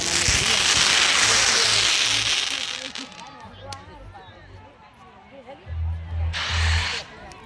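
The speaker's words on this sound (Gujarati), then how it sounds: "ફટાકડા ફૂટી રહ્યા છે" Firecrackers burst at an outdoor wedding in Gujarat, with a loud crackling barrage at the start and scattered bangs later. A crowd murmurs and people talk throughout.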